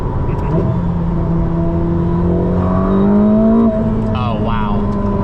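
A 1016-horsepower 2025 Ferrari SF90XX engine pulls on light throttle, its tone climbing steadily and close by, with people talking over the cabin drone.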